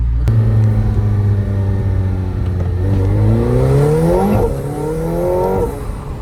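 A McLaren 720S supercar engine on a night drive, heard from inside as a loud, steady drone that climbs in pitch while accelerating, then eases slightly near the end. No voices.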